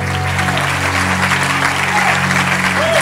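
A church congregation at a prophetic worship service breaks into sustained applause, a dense, steady wash of clapping that stays loud and even throughout, with a low hum running underneath.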